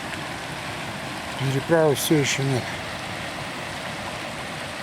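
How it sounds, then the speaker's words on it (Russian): Glacial river rushing in a mountain valley, a steady broadband roar heard nearby, with someone speaking briefly over it partway through. "Вот эта река."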